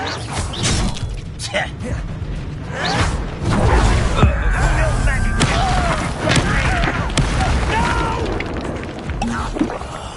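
Spell blasts in the video game Hogwarts Legacy, a fire-type incendiary spell, heard as loud booming bursts, crashes and whooshes layered over character voices and game music.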